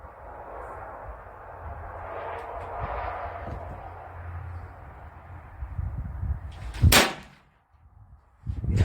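A Cattleman T2 PCP air rifle fires a .16 grain pellet downrange at 100 yards, giving a single sharp, loud crack after a stretch of low background noise, followed by brief quiet.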